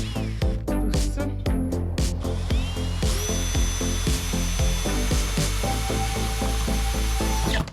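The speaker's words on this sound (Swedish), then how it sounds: "Alltid nervös att borra hål i" A power drill whines loudly and steadily, biting into a bus body with rapid repeated knocks at first, then a continuous high-pitched grinding drone.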